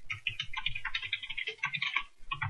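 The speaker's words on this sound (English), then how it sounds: "I'm having trouble typing" Fast, uneven typing on a computer keyboard while Java code is written, with close, crisp key clicks rattling out in quick bursts and brief pauses between them, and no voice.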